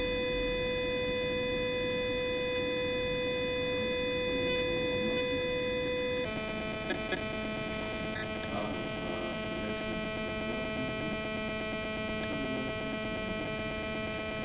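An RF meter gives off a steady electronic drone of layered tones as an iPhone connects to a 3G network, its pitch pattern shifting abruptly midway and continuing with faint clicks.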